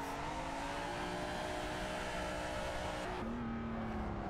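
Car drifting in Assetto Corsa, a steady engine drone held at high revs with sustained harmonic tones that drop to a lower pitch near the end, loud and continuous with faint tire noise.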